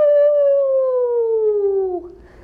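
A child in a kids yoga class imitating a dog with one long, clear, slowly falling howl, close and loud, ending abruptly into faint room noise.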